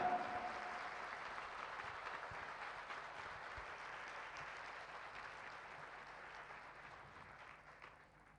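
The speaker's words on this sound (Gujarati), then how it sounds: "તો ભક્તજનો સંતને આપણે આજે જોરદાર તાળીના નાદથી" Devotees at a Swaminarayan satsang religious gathering applaud a saint: dense, steady clapping from a large crowd that fills the space, then slowly thins and fades toward the end.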